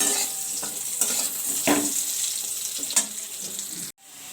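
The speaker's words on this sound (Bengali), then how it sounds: "বসিয়ে দিয়েছি চিংড়ি মাছগুলোকে কড়াইতে তেলে ভাজতে এই যে হচ্ছে চিংড়ি মাছ ভাজা" Steady crackling sizzle of prawns frying in hot oil in a wok, with a few sharper spatters and a brief drop near the end.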